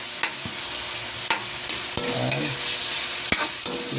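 Onions and tomatoes sauté in a pan for squid with vegetables, with a steady loud sizzle under sharp, irregular scrapes and knocks of a stirring utensil.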